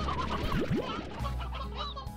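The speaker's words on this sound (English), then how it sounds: "Oh, we have some old hen here." An old hen clucks in the video game Slime Rancher, several short rising clucks and chirps at fairly low level over a soft ambient game background.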